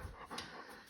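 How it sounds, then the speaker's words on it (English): A Belgian Shepherd crossed with a Labrador pants close by in a quick, soft burst of breathy huffs lasting about a second, faint and with no talking. "so he's a Belgian Shepherd. Crossed with a lab."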